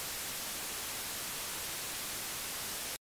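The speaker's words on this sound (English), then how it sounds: "This here is white noise, randomly generated broadband noise." Steady, hissing broadband white noise plays at constant loudness for about three seconds, then cuts off abruptly to silence.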